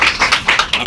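A church congregation claps in quick repeated bursts, loud and close, with rhythmic hand claps filling the short moment without voices.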